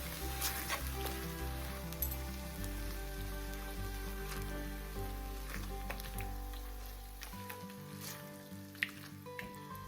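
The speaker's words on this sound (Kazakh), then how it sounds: "Оны да тағы да жақсылап араластырып, 2-3 минут аздап қана қуырамыз." Mushroom julienne with sour cream frying gently in a pan, a soft steady sizzle running under prominent background music for the whole stretch.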